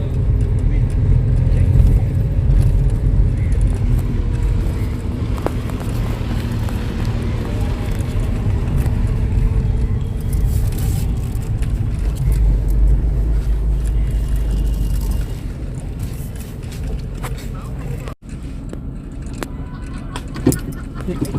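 A car is driven slowly over a badly broken, uneven road, with a continuous low road-and-engine rumble and loose jangling rattles inside the cabin throughout, ending with a sharp knock.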